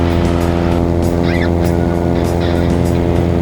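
Small airplane engine running at takeoff power, a loud steady droning hum with strong harmonic tones that fills the cabin throughout, briefly overlaid by a faint radio-like chirp.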